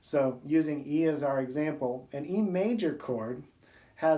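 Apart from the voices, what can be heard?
No distinct noise like a dog, phone or traffic.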